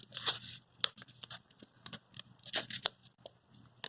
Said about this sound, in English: Let's see if we can just peel this back.